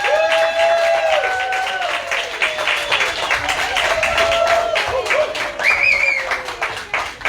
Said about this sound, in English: So everybody make a lot of noise and cheer